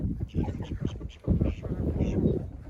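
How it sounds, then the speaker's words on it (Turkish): Several ducks quack in quick, overlapping bursts close by in a village yard, loud and busy throughout. "bakın ördekler ötüyorlar."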